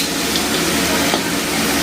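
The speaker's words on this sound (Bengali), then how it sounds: "দিয়ে পেঁয়াজটা ভাজতে দিয়েছি" Onions sizzle steadily in hot oil in a pan with dry red chillies, bay leaves, cumin and a couple of cloves, a close, continuous frying hiss with light stirring.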